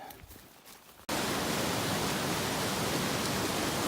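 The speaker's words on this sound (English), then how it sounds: "Toboggan Creek." Toboggan Creek on the Berg Lake trail rushes loudly and steadily, a dense, continuous roar of fast-flowing water that starts abruptly after a brief quieter moment.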